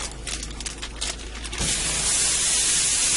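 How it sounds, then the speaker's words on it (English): 80/20 hamburger meat fries in a stovetop pressure cooker with a steady, close hiss and sizzle that grows denser and louder partway through, with no talking. "I'm going to fry this up till it's brown and drain the grease off."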